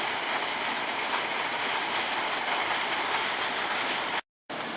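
Steady rushing water pours from a levee discharge hose pipe, a loud continuous broadband gush that holds evenly before cutting out briefly near the end.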